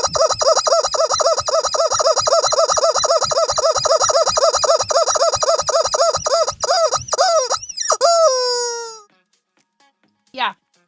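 A voice imitates chicken squawks with a loud, close run of rapid, evenly spaced honking clucks that ends in a few drawn-out, falling squawks and a short final squeak.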